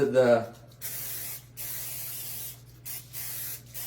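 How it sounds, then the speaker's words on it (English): Three short hissing bursts from an olive oil spray bottle, spaced apart, close by, with a brief voice at the start. "I'm just using an olive oil spray"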